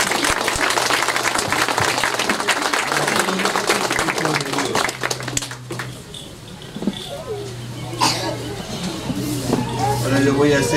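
A crowd claps steadily in sustained applause at a baptism in a chapel, fading slightly midway, then swelling again, with murmuring voices underneath.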